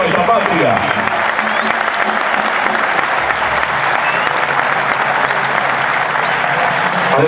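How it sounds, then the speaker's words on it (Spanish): A stadium crowd at a football match applauds war veterans being honored, producing loud, dense, sustained clapping that washes across the whole stand with no break. "Se merecen un aplauso de todo el estadio a estos héroes"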